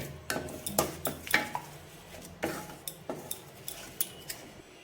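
A spoon mixes sugar into a sweet mixture for a tricolour sweet, giving a series of light clinks and scrapes against the bowl, close but soft, with no talking.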